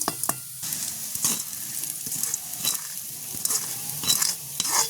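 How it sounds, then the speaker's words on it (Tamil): Spices tempering in hot oil in an outdoor village kitchen, with a loud, crackling splutter and bursts of stirring and pot clatter close by. Nobody speaks. "நாங்கள் நல்லபடியாக தாளிச்சு எடுத்துட்டோம் நல்லா பொரிஞ்சிடுதெல்லாம்"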